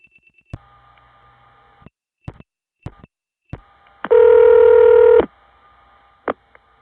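A 1970s long-distance call dialed through a step-by-step tandem to a non-working number, heard as a series of sharp clicks over a faint line tone, then a loud sustained multi-tone signal, then more clicks.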